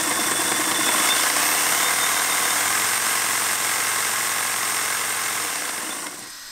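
Electric motor on a Raptor II rover, a single rear right wheel motor, whirs steadily under throttle for about six seconds with a faint rise and fall in pitch before cutting off near the end.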